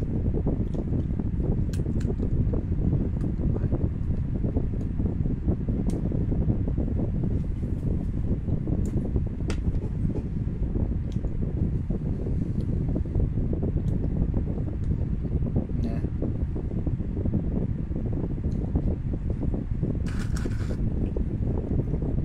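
A running electric fan gives a steady, dense, low rumbling whoosh with wind-like buffeting, constant and loud for over twenty seconds, with faint scattered clicks and no speech.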